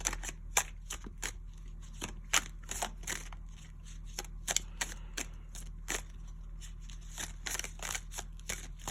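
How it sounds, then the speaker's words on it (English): Tarot cards are shuffled in quick, crisp bursts of riffling and snapping, close and fairly quiet, repeating irregularly throughout with no talking. "Especially when I was shuffling, I was picking up that energy"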